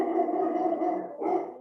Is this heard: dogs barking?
yes